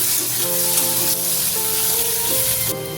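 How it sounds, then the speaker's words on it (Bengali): Chopped onion with whole cumin sizzles steadily in hot oil in a kadai, a loud, continuous frying crackle close by with no talking, for rohu fish curry with pointed gourd. "পেঁয়াজটা একটু ভেজে নিচ্ছি।"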